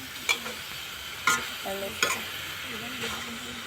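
Jackfruit and potato pieces go into a hot pan for a traditional Assamese jackfruit curry, giving a steady close sizzle broken by three sharp scrape-and-clatter strokes of a spoon stirring, with no talk.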